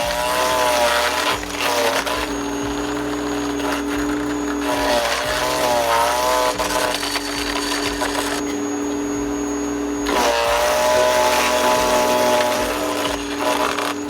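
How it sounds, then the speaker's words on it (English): A Bosch AXT Rapid 2200 electric shredder chews through straight branches, its loud motor whine dropping in pitch under load and recovering between feeds, with crunching and rattling of wood, close and continuous. "with branches that are straight, they go through very, very easy"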